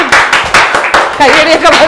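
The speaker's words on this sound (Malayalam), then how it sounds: "കയ്യടിയൊക്കെ മതി" Rhythmic hand clapping from a small group at an Onam celebration with elderly mothers and children, steady beats repeating about four times a second, mixed with voices and a sung tone near the end.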